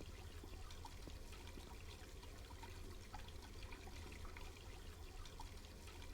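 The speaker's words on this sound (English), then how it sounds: "The water is boiling." In the game Black Mirror II: Reigning Evil, water boils in a steamy bathroom, giving off a soft, continuous bubbling rush at low volume with no voices over it.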